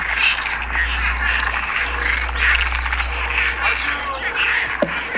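Frogs call in a dense, pulsing chorus during an outbreak of poisonous frogs in Dominica, rising and falling steadily over a low constant hum, with people talking underneath.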